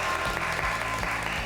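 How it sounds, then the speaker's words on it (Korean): Audience applause at a Korean local news segment, celebrating Ulsan Hyundai's unbeaten five-game winning streak; steady, dense clapping fills the whole moment without any voices over it. "축하의 박수 한번 보내주세요."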